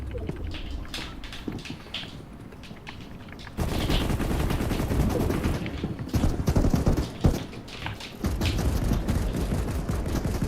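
Gunfire in the video game Fortnite: rapid volleys of shots and bursts crack across the clip, growing louder and denser midway, with some heavier single reports standing out.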